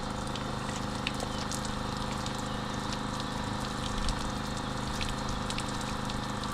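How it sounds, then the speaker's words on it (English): A bilge pump aboard a used motorboat hums and sloshes steadily, a constant low whir mixed with trickling, gushing water, close and unchanging throughout. "So it does have a bilge pump"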